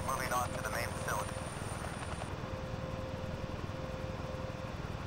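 A helicopter in the video game Delta Force Xtreme 2 gives off a steady, pulsing rotor drone throughout, moderately loud and constant, with a voice heard briefly near the start.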